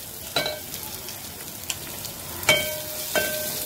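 Spiced mixture with turmeric stirred and sautéed in oil in a small pot for Maharashtrian buttermilk kadhi, soft sizzling with a few sharp spoon-against-pot clinks and scrapes, close and without talk.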